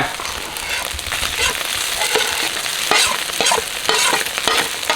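Rice is stir-fried in a wok for crab fried rice, loud close sizzling with repeated quick scraping and tossing strokes of the spatula, no talking.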